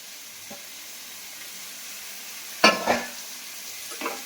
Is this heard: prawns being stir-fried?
yes